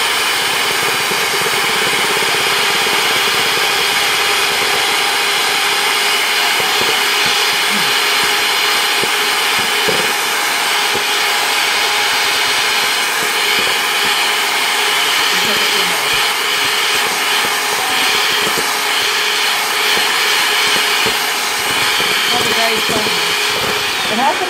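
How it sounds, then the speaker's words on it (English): An electric mixer beats egg whites for waffles until foamy, a loud, steady high-pitched whine running without a break throughout, close up, with faint rattling against the bowl. "So what I'm going to do is mix this up until it's foamy."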